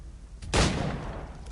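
A single sharp gunshot from Assassin's Creed III cracks out loud and close, its blast decaying over about a second with no voices.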